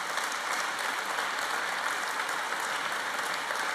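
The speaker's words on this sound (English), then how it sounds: "And the applause here rightly started by Greg Hands" A Scottish Conservative conference audience applauds, a steady, dense wash of clapping filling the hall without pause.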